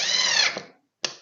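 A power drill backs a screw out of the wood of a kids' airplane rocker, whining steadily at close range for about half a second before slowing. A second short burst follows after a brief pause.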